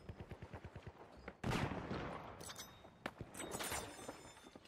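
Gunfire from the shooter game The Finals: a rapid train of evenly spaced automatic shots, then a loud blast, followed by scattered single shots and further bursts at moderate distance.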